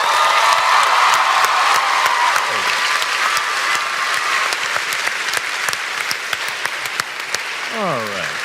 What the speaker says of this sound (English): Give it one more round of applause,